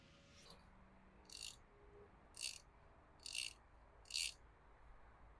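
Ratcheting tool tightening a part on an e-bike mountain bike build, heard as four short, crisp ratchet bursts about a second apart, close by and alone over quiet background.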